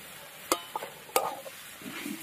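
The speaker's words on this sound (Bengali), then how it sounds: "এবার ইঁচড়টাকে ভালো করে একটু মশলার সাথে কষিয়ে নিতে হবে" Jackfruit is sautéed with spices and crushed green chilli in a pan: a few sharp scraping stirs of a spoon against metal over faint frying, with a soft sizzle toward the end.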